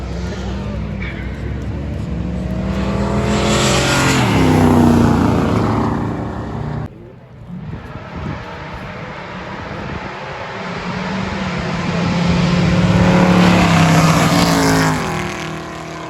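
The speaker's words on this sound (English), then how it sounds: "That car runs real good." A Chevrolet Nova street race car engine revs and accelerates, its pitch climbing loudly, dropping briefly, then building again in a second loud surge.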